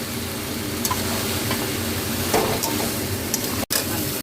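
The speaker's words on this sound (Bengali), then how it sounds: "এবার আমি শিমটা দিয়ে নেড়ে ঢাকা দেবো।" Beans (shim) being stirred in a frying pan with turmeric, chilli powder and slit green chilli, giving a steady close sizzle with scraping stir strokes and a brief clatter near the end.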